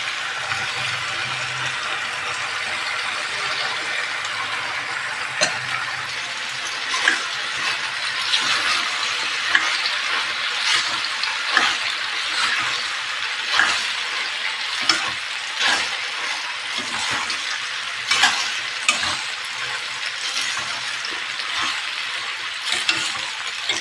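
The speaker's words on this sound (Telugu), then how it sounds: "ఇప్పుడు ఈ పాస్తాని ఇందులో యాడ్ చేసేసుకోవాలి" Pasta being stirred and fried in a pan with vegetables and black pepper, with a steady sizzle under repeated scraping and clinking stir strokes throughout, close and alone.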